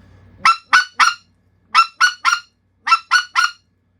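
A handheld speck goose call blown in kickback clucks: nine sharp, loud, high honking clucks in three quick groups of three, each group separated by a short pause, heard alone and close up.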